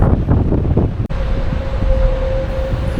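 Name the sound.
strong wind at the port of Saint Malo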